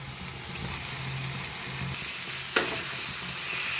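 Chicken pieces sautéing in a pan for a home-style chicken gravy give a steady, close sizzle with a scrape of stirring and a sharper burst of frying near the end, and no voices.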